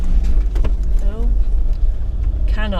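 A 4WD vehicle pushes along an overgrown bush track in Macalister State Forest, Victoria, with a loud steady engine rumble close up and scraping brush, while someone talks over it.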